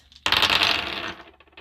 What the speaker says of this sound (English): Let's roll some dice.